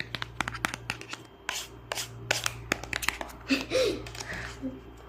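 Crinkly handling of a perfume gift package being torn open, with scattered sharp rustles, taps and tearing sounds close by amid some quiet talk and a steady background hum.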